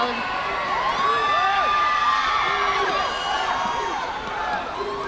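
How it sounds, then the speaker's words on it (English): An arena crowd roars and cheers loudly and continuously after a goal by the goal shooter at a SEA Games netball match between the Philippines and Singapore, with whoops and shouts rising over the sustained din. "the crowd goes absolutely wild"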